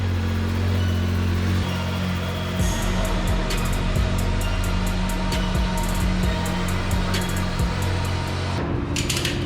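A Ford Maverick R engine on a dyno, loud and close, holding a steady drone, then revving up and down in repeated bursts with sharp rises and drops in pitch.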